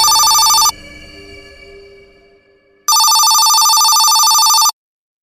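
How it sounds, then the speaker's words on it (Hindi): A telephone rings in two loud, close electronic bursts separated by a quieter pause with a faint fading tone. "तभी उसका फोन बजता है।"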